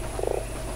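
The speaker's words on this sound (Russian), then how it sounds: "Жаба." A toad croaks in the video game Fran Bow, a short burst of low, throaty pulses heard alone against a quiet background.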